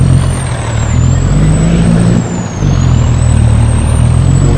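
A heavy tractor truck towing two excavators up a mountain road grinds out a loud, deep, labouring engine drone that holds steady, dips briefly, then resumes its strained roar close by, with no talk.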